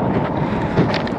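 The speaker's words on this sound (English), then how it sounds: "It's windy." Gusty wind buffeting the microphone while hiking in the canyons of Utah, a broad low rumble with airy hiss throughout.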